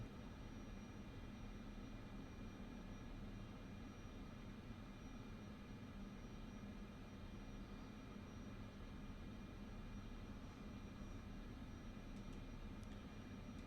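Airliner taxiing in Microsoft Flight Simulator: a steady, loud jet engine rumble and whine holds evenly throughout with no voices or breaks.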